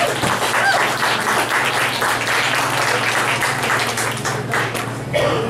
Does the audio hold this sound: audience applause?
yes